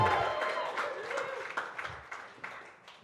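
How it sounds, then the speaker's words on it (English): Wedding guests at a Hunter Valley reception in a barrel room applaud the bride, a fairly faint wash of clapping with a few sharper bursts that gradually tapers, and voices mixed in at the start. "And an extra big round of applause for the beautiful bride, Brooke."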